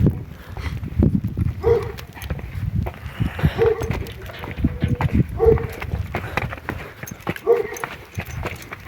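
A black draft mare's hooves clip-clop on hard ground in an uneven walking rhythm, close by, with a few faint squeaky tones and some background rustle.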